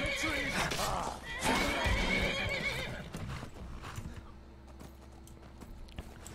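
A horse in Skyrim whinnies loudly over clopping hooves, then the hoofbeats continue more quietly as the neighing fades; a voice talks over part of it.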